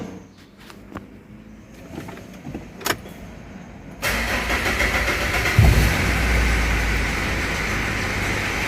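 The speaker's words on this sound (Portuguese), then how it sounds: "Vou funcionar ela aqui para vocês verem o barulho que tá fazendo no motor aí" A Mitsubishi Pajero with a 3.2 diesel engine and a worn timing chain is started: quiet clicks and clunks first, then the engine catches and settles into a loud, steady, rattling idle close by.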